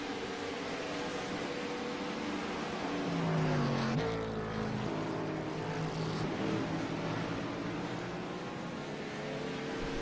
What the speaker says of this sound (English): I hear Matt downshifting too in 1 and 2